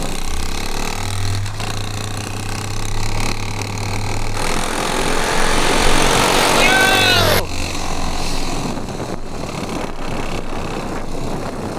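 A 1974 Honda Z50 minibike and a Ford Bronco with a 2.3-liter inline-four race off, engines humming low, revving up into a strained rising whine midway, then dropping away to quieter background sound.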